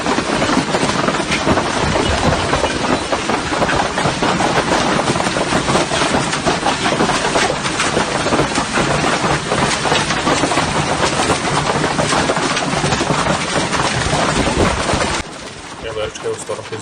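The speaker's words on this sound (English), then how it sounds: "A large hailstorm hit the city of Nausori, Fiji." A golf ball-sized hailstorm hits Nausori, Fiji, with strong wind, producing a dense, loud, continuous clatter and roar of hail that drops off abruptly near the end, with a voice talking over it.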